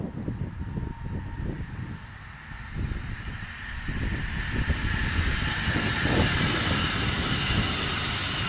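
Brightline passenger train passing near Fort Pierce, Florida, heard from a distance as a broad rumbling roar with rhythmic wheel clatter and hiss that slowly swells, with no voices.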